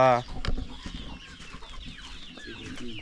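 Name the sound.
chickens and chicks clucking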